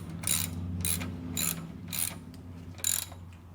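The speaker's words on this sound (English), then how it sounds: "I got a socket with a really long extension on." Ratcheting socket wrench on a long extension snugging bolts on a trailer tongue box, five bursts of quick clicking spaced about half a second apart, close and fairly quiet over a low steady hum.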